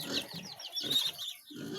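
Chickens cluck and chatter in short, nasal bursts during rainy weather, close and fairly quiet, with brief pauses between the calls.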